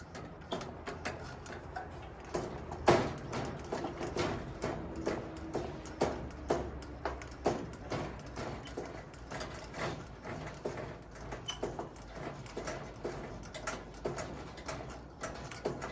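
Hand pump building pressure in a Canadian 421 two-burner cookstove: close, steady, rhythmic strokes, each marked by a sharp click or tick, repeating throughout.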